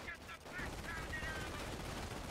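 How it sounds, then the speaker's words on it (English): Machine gun fire in a Company of Heroes 1v1 match (USA versus Wehrmacht), an MG firing on the middle of the map: dense continuous rattle throughout, fairly faint and mixed with battle noise. "MG shooting on the mid."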